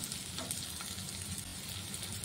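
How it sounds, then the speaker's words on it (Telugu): Onions fry in a pan for a wheat-flour snack, giving a soft, even sizzle that holds steady for a couple of seconds with faint stirring underneath and no voices. "ఆనియన్స్ అన్నీ ఇలా బాగా వేగిన తర్వాత"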